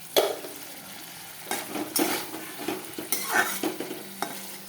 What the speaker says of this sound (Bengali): এখন একটু কষা কষা হবে, আবার জল দিব।